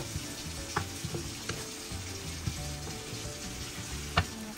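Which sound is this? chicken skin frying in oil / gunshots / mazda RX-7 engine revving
chicken skin frying in oil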